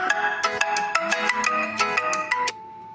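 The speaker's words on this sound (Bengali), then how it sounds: "হঠাৎ করে ফোনটা বেজে উঠলো" A phone ringtone plays a bright, repeating electronic melody in quick, regular pulses, then cuts off abruptly, leaving a faint steady tone.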